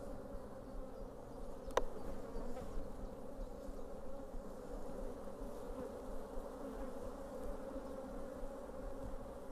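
A dense mass of honeybees hums continuously during a hive inspection, a steady close-up drone with no pauses and one brief sharp tap early on.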